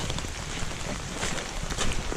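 Rain falling steadily on a wooded hiking trail at Wildcat Hollow, a dense close patter with occasional heavier drops and no voices.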